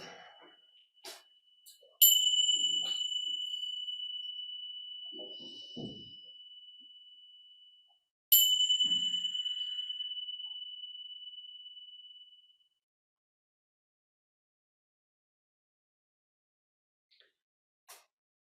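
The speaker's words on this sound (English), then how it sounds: "let's start with some bells" Two meditation bell strikes ring out, each a clear bright tone that sustains and slowly decays over several seconds, followed by near silence with faint small sounds.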